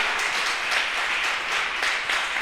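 Steady, dense applause from a church congregation fills the whole moment, loud and continuous.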